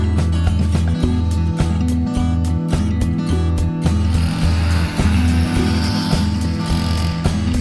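A four-wheeler ATV engine running while being ridden, a loud steady low drone with rhythmic pulsing and occasional rattles, close by with rushing wind noise in the second half.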